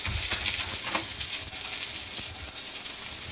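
Vegetables stir-frying in a pan for tteokbokki, a close, crackling sizzle with soft patter and scraping stirs, continuous and fairly loud, no voices.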